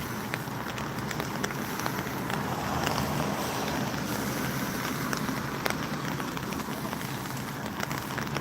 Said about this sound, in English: It wasn't supposed to rain until 2 o'clock.